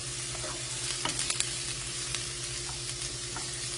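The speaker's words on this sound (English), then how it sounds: "Alright, I've sauteed my mushrooms." Mushrooms sizzling as they sauté in a pan on medium heat, a steady close crackle with a few light stirring clicks and no talk.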